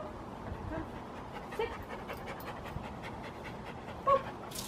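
A poodle pants steadily and softly during trick training, a low breathy rhythm running through the whole stretch with a couple of brief faint squeaks.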